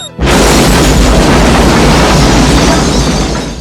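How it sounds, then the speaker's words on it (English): A huge, booming explosion erupts after a brief quiet moment, then sustains a dense, roaring rumble for several seconds without fading. "What an explosion!"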